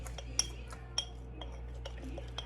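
Spoon stirring sourdough starter in containers at home, giving a few light, sharp clinks and taps against the sides over a quiet background.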